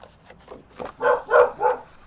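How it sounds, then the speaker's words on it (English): A dog barks three times in quick succession, fairly close and loud, after a few softer whimpering sounds. "And there's the barking."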